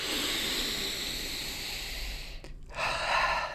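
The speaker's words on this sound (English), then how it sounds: "Slow, deep breathing activates the parasympathetic nervous system" A single slow, deep breath drawn in close to the microphone as a long airy hiss, then a brief pause and a fresh rush of breath, with no talking.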